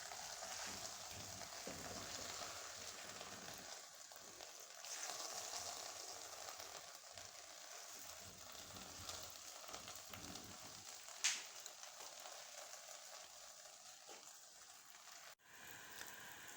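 A village-style potato-stuffed paratha sizzles and crackles softly on a hot pan, a steady faint frying hiss with a few small pops and a clatter near the end.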